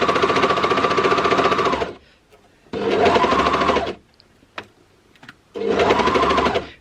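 A sewing machine stitching a McCalls 8145 top runs in three steady, loud bursts of rapid whirring, separated by short pauses with faint handling clicks.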